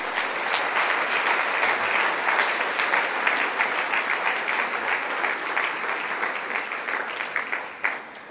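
Applause from a church congregation during a Sunday service rises and holds steady for several seconds, dense and fairly close, then thins out toward the end.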